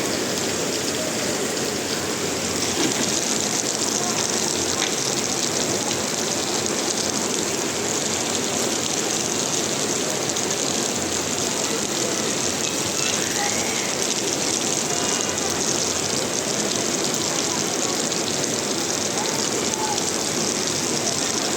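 Heavy rain pours steadily onto a flooded Dhaka street, a dense continuous hiss with splashing. Traffic rumbles through the water and people run for cover, all under the unbroken downpour.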